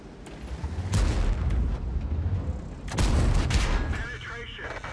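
Tank cannon shots in World of Tanks gameplay with a Chrysler K: two heavy booming blasts about two seconds apart, each followed by a rumbling decay, with game effects around them.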